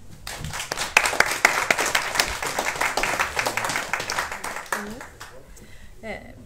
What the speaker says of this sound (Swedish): Så tycker vi ger henne en applåd